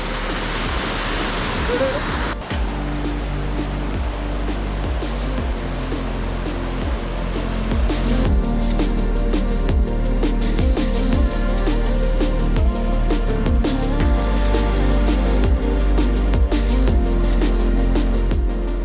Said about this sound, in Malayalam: നമ്മൾ സ്ലൈഡിംഗ് വാട്ടർ ഫോൾസ് വഴി ഇങ്ങനെ ഒഴുകി വരുന്ന വെള്ളം ആട്ടോ അതായി പോകുന്നത്